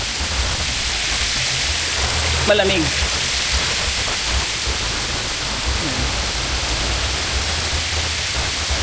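Water from a rain-effect shower at a nature resort pours down steadily as a loud broadband hiss, with a person speaking briefly over it.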